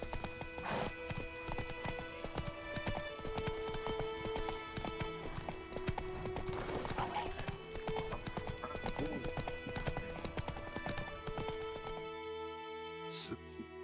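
Roach the horse galloping in The Witcher 3, a continuous rapid clip-clop of hooves under game music, with a faint whinny, running without a break until it stops near the end.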